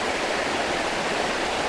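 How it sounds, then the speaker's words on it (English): A small waterfall spilling down a crevice between mountains into the Cheticamp River in Cape Breton, heard as a constant, fairly loud broadband rush of flowing water with no voices. "there's a little waterfall far background"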